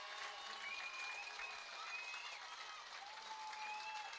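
A high school football crowd at the Port Huron versus L'anse Creuse game applauds and cheers steadily, a dense wash of clapping heard from a distance with a few whistles cutting through.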